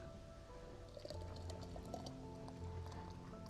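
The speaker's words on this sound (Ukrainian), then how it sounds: "І тепер беремо отак, набираємо друшлячок і заливаємо в баночку." Hot homemade tomato juice is poured from a ladle into a glass jar in a steady, continuous splashing stream, alone without talk.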